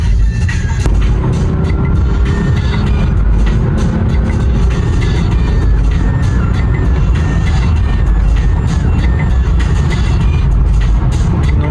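Cars revving and accelerating along city streets in Lviv, including Octavias and Golfs, a constant loud roar of engines and traffic with low rumble throughout.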